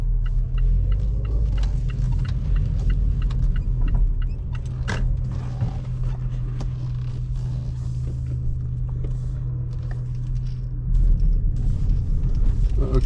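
A car pulls slowly into a car boot sale on the Fylde Coast in the UK. Its engine hums low and steady from inside the cabin, with light knocks and rustles over it.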